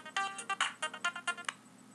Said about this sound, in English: Let's ignore that phone call.